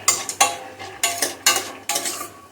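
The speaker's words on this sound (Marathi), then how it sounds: "आता तेल गरम झालंय, सांडगे असे परतून घेते मी." Sun-dried lentil dumplings (sandge) tossed in hot oil, a spoon scraping and clinking against the pan in regular bursts over a soft frying hiss, close and fairly loud, no talk.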